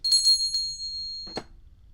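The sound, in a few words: notification bell sound effect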